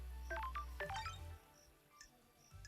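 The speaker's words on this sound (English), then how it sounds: "where is that ringing coming from?" A phone rings in the video game Paradise Killer: quick, bright electronic chirps arrive in short clustered bursts, then fainter tones fade out over a quiet low hum.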